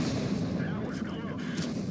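Tank gun fire in the World of Tanks video game, a deep booming blast rolling into a sustained rumble that fills the short stretch.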